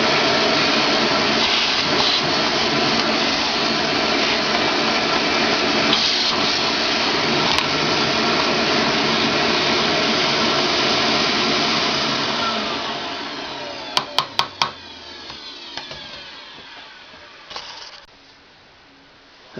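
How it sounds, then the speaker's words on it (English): A vacuum cleaner roars loudly and steadily while cleaning out a mill, then winds down with a few sharp clicks before falling quiet near the end. "You got to run the vacuum cleaner."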